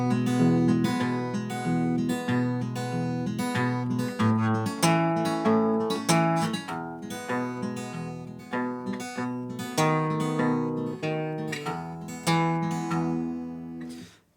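Fingerpicked guitar in a country-style pattern with an alternating bass and brisk, steady plucked chords, played close and clear with no talking.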